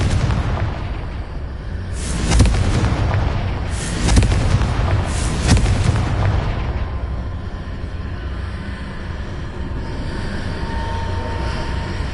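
A Confringo fire spell explodes in the Hogwarts Legacy video game, a series of deep booming blasts with roaring bursts over a low rumbling background that fades into a long lingering tail.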